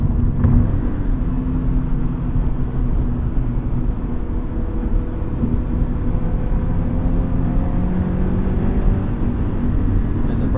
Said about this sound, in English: Oh, this thing loves revs.